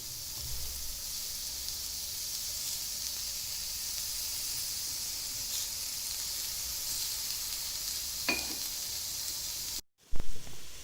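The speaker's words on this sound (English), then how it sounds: "Can you hear the grilling sound? The onion is grilled." Onion for a spinach corn sandwich grills in a pan with a loud, continuous sizzling hiss that holds steady throughout, a faint clink near the end, no voices.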